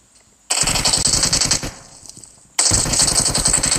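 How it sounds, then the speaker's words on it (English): Loud rapid automatic gunfire from the mobile game PUBG Mobile rattles in two bursts, the first tapering off before a second sharp, dense burst. "I literally shoot at his face 2 times."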